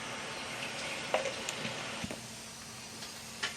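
Ghee heating in a hot kadai gives off a faint, steady sizzling hiss, broken by a few soft scattered pops and clicks.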